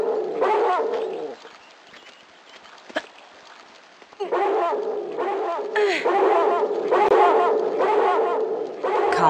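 Dogs bark and growl in Tomb Raider 2, level Bartoli's Hideout, a loud close pack giving repeated harsh bursts with a brief lull midway before the barking resumes even louder.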